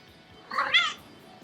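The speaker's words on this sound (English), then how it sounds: "This is what you've been hearing the whole video. This is my cat, Mocha." A pet cat meows once indoors, a short drawn-out call rising then falling, fairly close and clear over a quiet background.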